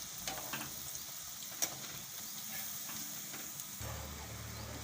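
Leftover roti cones fry in hot oil in a home kitchen, giving a soft, continuous sizzle with faint stirring clicks, heard close but quiet and with no talking.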